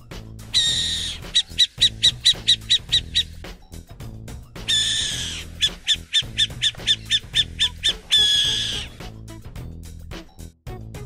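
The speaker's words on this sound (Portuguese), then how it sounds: "Coruja." Three bursts of owl calls, each a harsh screech followed by a rapid run of short, evenly spaced hoots, come fairly close and loud over a low background hum.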